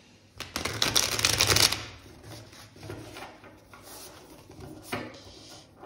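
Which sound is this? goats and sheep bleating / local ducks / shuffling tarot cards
shuffling tarot cards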